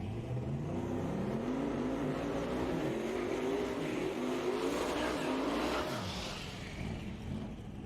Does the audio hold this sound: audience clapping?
no